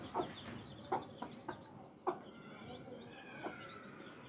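Newly hatched chicks and hens peeping and clucking in a farmyard, a handful of short, faint chirps spaced out against quiet background noise.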